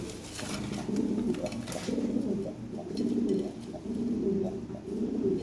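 Lahore pigeons coo softly in repeated low rhythmic phrases, several bursts in a row, close but fairly quiet, with no talking.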